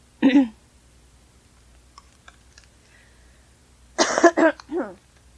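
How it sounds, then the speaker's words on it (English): A short, sharp throat-clearing sound, then faint clicks in near silence, followed by another rough clearing of the throat, close to the microphone. "I'm suddenly having trouble clearing my throat"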